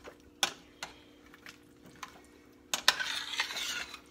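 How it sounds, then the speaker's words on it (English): A spoon stirs zucchini chunks in a soup pot, first with a few scattered clinks against the metal, then a busier burst of scraping and sloshing near the end. "And stir that up."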